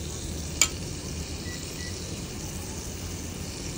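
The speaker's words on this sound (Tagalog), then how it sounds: "Mag-gisa muna tayo ng sibuyas." Onions sautéing in a pan, a steady faint sizzle with one brief clink of a utensil near the start.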